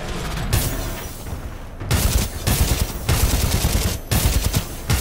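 Double Take sniper rifle fire in Titanfall 2: loud, dense bursts of gunfire and booming impacts fill the clip, separated by a few brief gaps of near silence.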